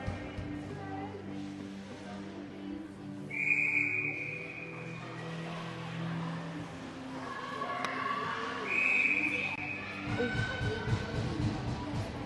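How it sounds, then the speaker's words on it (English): A referee's whistle at a youth ice hockey game in a rink, two sharp shrill blasts a few seconds apart over a murmur of crowd and arena noise, with a voice talking nearby. "Whistle goes."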